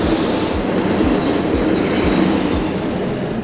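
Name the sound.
Swiss train running at a station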